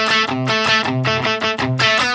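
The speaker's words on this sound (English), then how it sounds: "So we're just using the distortion pedal to actually just push the amp harder." Electric guitar chords played through a distortion pedal pushing a Neural DSP Granophyre amp harder, a few crunchy, driven strums in quick succession, loud and close with no talking.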